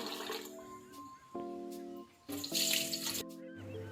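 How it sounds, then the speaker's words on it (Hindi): Water splashes from a kitchen tap into washed moong dal and rice, in several loud bursts with short pauses between them. "तीन दफ़ा वॉश करके इसमें पानी डाल के हम आधे घंटे के लिए इसको भिगो देंगे।"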